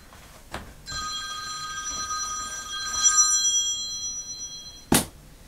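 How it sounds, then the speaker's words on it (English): A telephone gives one sustained, bright electronic ring for an incoming call, close and clear in a quiet room during an acrylic painting session, with a sharp click just after the ring stops. "Oh, I got a phone call,"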